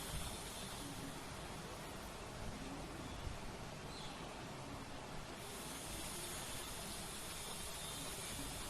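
Steady hissing sizzle of spices frying in a pan with salt for chicken keema masala, continuous and fairly close, with no voices over it.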